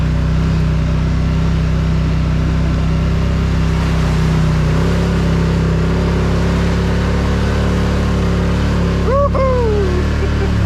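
Off-road vehicle churning through a muddy water run after rain, its engine droning loudly and steadily with rising revs, water washing around it, and a brief voice near the end.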